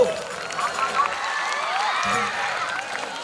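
An audience at Vidyoday Vidya Sankul breaks into loud, continuous clapping as twenty-five state- and national-level student players are honoured, with a few faint whistle-like tones over the applause.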